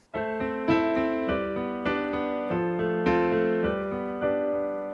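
Piano plays a sequence of full chords, each struck firmly and left ringing, the same chord doubled in both hands for a thick sound in low and middle registers.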